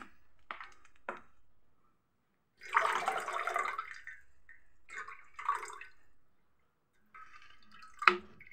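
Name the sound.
water being poured and mixed in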